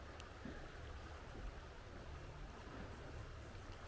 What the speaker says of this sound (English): sound of water